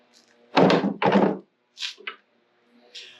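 A punch is driven through a part clamped in a vise: two loud, close metal-on-wood thunks in quick succession, followed by a couple of lighter taps, all in a quiet room.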